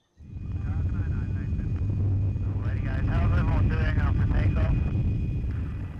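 A helicopter flies over the erupting Kilauea volcano in Hawaii, its engine and rotor making a loud, steady drone throughout, with a voice briefly audible over the noise midway.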